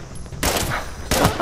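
Two loud gunshot bursts fired in Fallout 76, each a sharp crack with a brief noisy tail, separated by under a second of quieter game ambience.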